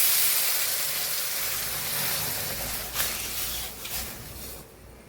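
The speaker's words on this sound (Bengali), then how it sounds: "এবারে দিয়ে দিচ্ছি জল।" Water poured into a hot wok with masoor dal, producing a loud, steady hiss of steam that slowly fades, with a few small splutters toward the end, close by.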